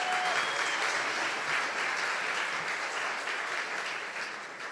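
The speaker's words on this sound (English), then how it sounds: "So let's clap those folks up as well." Audience applause at a gala fills the room as a steady wash of many hands clapping, moderately distant, holding level before slowly tapering toward the end.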